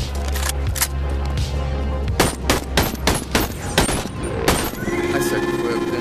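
AK rifle fire in the VR game BONELAB comes as a rapid string of loud, close gunshots, some in quick bursts and some single, over a steady background hum.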